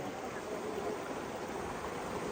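The Jharletung village stream rushes in a steady, continuous broadband wash of flowing water, close and even, with no voices.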